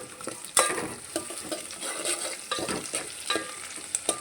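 Okra rasam ingredients, including crushed coriander stems, fry in a pan while being stirred, a close sizzle broken by frequent sharp scrapes and clinks of the spoon.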